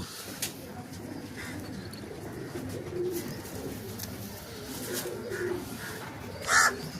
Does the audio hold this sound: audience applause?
no